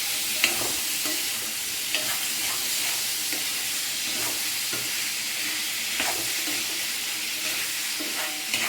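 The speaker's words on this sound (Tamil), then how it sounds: "லைட்டாக அந்த பீன்ஸ் கலர் மாறுற வரைக்கும் நம்ம இந்த மாதிரி வதக்கி விட்டுக்கலாம்" Steady sizzling of cut beans sautéing in a pan, with scraping and stirring clatters from a utensil at irregular intervals throughout.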